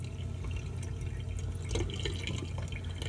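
A pet snail sits under a running shower of water, a steady close splashing and dripping patter with no talk.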